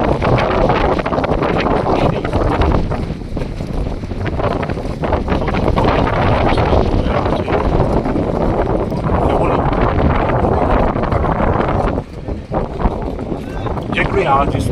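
Strong stormy wind at Havelock Island jetty roars and buffets the microphone loudly and continuously, with a voice talking underneath the rushing noise.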